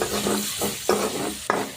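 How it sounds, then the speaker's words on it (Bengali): Chopped onion and garlic sizzle in hot oil while a spoon stirs, giving a few rhythmic scraping strokes over the constant frying hiss. "তেল গরম করে কেটে রাখা পেঁয়াজ রসুনের কুচি দিয়ে হালকা করে ভেজে নেব"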